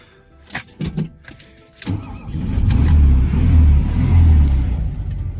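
A 1974 VW Beetle starts up, keys jangling and a few starter cranks before the air-cooled engine catches and settles into a loud, steady idle close by.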